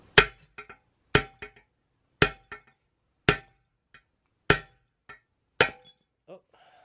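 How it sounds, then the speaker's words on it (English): Hammer strikes on a stuck bolt in the swing arm of a Sur Ron Light Bee electric dirt bike, six sharp metallic clangs at steady intervals, each followed by a lighter rebound tap, close and loud. "Now I'm just gonna whack it"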